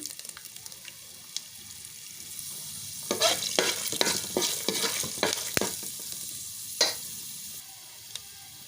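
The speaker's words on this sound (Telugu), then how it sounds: "ఇలా ఆయిల్ వేడి అయిన తర్వాత ఇందులోకి ఒక రెండు స్పూన్ల పల్లీలను అయితే యాడ్ చేసుకోవాలి అలాగే ఒక టూ స్పూన్స్ శనగపప్పు మినప్పప్పును కూడా యాడ్ చేసుకోవాలి" Peanuts, chana dal and urad dal fry in hot oil for mango rice, giving a soft steady sizzle with bursts of close stirring and scraping in the middle.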